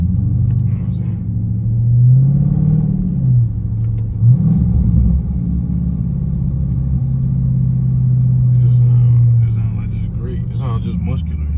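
Deep rumbling exhaust of a Dodge Charger Scat Pack running catless, droning loud and steady from inside the car while driving, with a couple of swells in revs.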